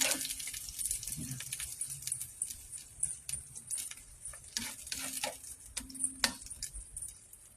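Scrambled egg with carrots, garlic chives and cabbage sizzles steadily in a pan over medium heat, with close clinking and stirring scrapes scattered over the continuous frying hiss.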